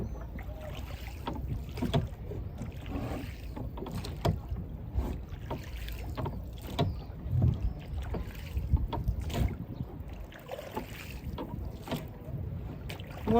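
Oars stroke rhythmically through water as a rowing boat moves along a promenade, each splash and pull repeating at a steady pace close by, with light wind noise and no talk.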